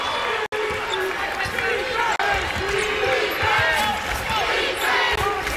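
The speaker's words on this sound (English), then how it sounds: "Crowd's going bananas." Crowd roaring at a college basketball national championship game between Northwest Missouri State and Augusta, a loud, sustained arena din of cheering and shouting that fills the whole stretch, with a commentator talking over it.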